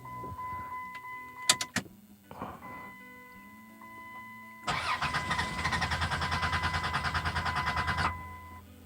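A Dodge Grand Caravan with a crank-no-start fault: a key turn and a few clicks and chimes, then the starter cranks the engine in a fast, even rhythm for about three seconds without it catching, close and loud.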